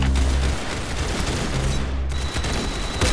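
Video game gunfire crackles in a dense, loud burst of rapid overlapping shots that continues almost without a break through a few seconds.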